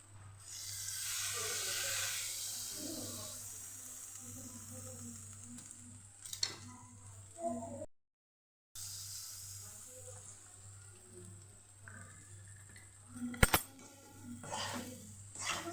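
Chilli sambharo stirred in a pan with lemon and green coriander after the gas is turned off, giving a soft fading sizzle and scraping stirs with a few sharp utensil clinks, with a short silent gap midway.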